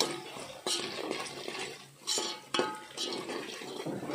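Spices, chilli powder, turmeric, salt and curry leaves being stirred into village-style fish pulusu in a pot, with scraping and clinking of a spoon against the metal in uneven strokes, fairly close, no talking.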